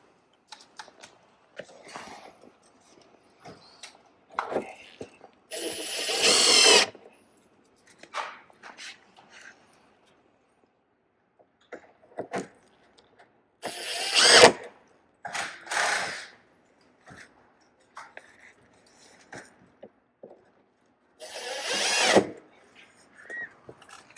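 A power drill drives screws while a real molded carbon fiber side skirt is fitted to a 2024+ Tesla Model 3, with several short whirring bursts separated by near silence and faint handling noises.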